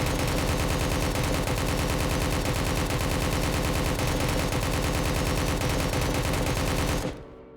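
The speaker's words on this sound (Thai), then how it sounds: "ยิงแบบ เอาให้หมดเอาให้หมดแม็กนี้ฮะ" An AK rifle in Roblox Project Delta emptying a full magazine in rapid automatic fire, a dense unbroken stream of loud, evenly spaced shots that stops abruptly near the end, leaving a short fading tail.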